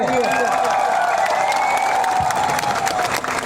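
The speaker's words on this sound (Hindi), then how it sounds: "पू बीके रंखोल के लिए ताली मारिए" A crowd at a Tipra Motha Party mass gathering in Nailaha, Ambassa claps steadily for a leader, a continuous dense wash of applause with a few cheers, heard alongside a ringing amplified voice.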